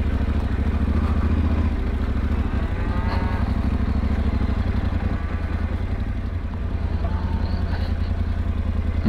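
A Yamaha Ténéré 700 motorcycle ridden on a ranch, its engine droning steadily and close, with low rumble and light mechanical clatter running throughout.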